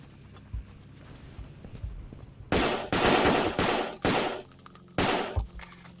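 Gunfire in the Battlefield Vietnam video game: loud bursts of automatic fire cutting in every second or so over a quieter background of game sounds and light thumps, with no voices.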